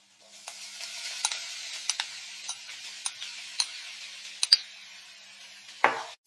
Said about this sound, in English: Now add onions and fry until golden brown